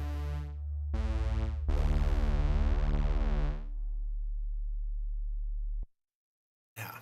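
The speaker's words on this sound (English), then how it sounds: "it shoots a sine wave in parallel with the filter" A Soundpaint synthesizer patch plays sustained tones with a pure, humming sine-wave layer running in parallel with the filter underneath, rising in steps, then holding and fading out before a brief cutoff.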